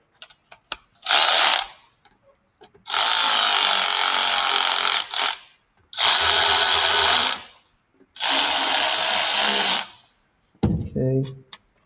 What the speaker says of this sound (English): my 10mm battery operated ratchet